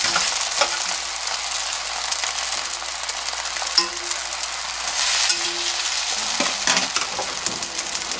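Glass noodles and bean sprouts are stir-fried for soy-sauce japchae. A loud, even sizzle runs throughout, with rhythmic scraping and tossing from stirring and a few brief clatters of a utensil on the pan.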